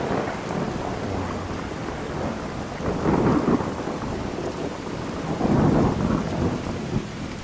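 Steady rain pours through a Skyrim town, a continuous hiss of drops, with low rumbles of thunder rolling in twice. It is heard without talk.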